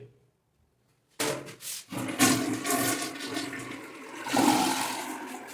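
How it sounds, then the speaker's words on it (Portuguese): A toilet with a close-coupled tank flushes in an apartment bathroom: near silence, then a sudden loud rush of water that churns and gurgles steadily as the bowl drains and refills. "Descarga funcionando normalmente."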